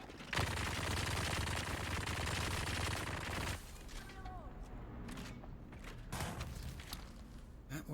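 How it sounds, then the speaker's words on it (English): Sustained automatic gunfire from Dune: Awakening rattles loudly for about three seconds, then gives way to scattered mechanical clanks and creaks, with a voice talking over parts of it. "You should be shooting him."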